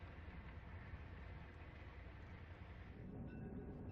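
An Erie Alco PA1 diesel locomotive in two-tone green paint, trailed by a Lackawanna E8A, hauls the Pacific Express, train number 7, past Marion, giving a steady, loud rumble that stays even throughout.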